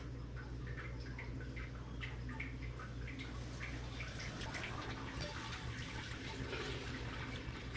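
Hot sparge water, around 170 degrees, pours steadily through a dispersing screen onto a grain bed during beer brewing, a continuous close splashing trickle without pause.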